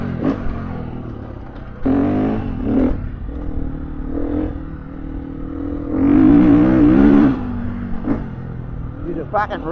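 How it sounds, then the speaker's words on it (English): A 2021 Gas Gas EC 350F dirt bike engine braking: a four-stroke motor revs, drops off and surges again in uneven bursts, close and loud, with a voice talking over it. "Different style of engine braking this bike's got too"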